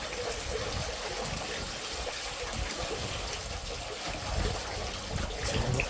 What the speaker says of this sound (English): Oh, air coming out of it then, that'll be a good sign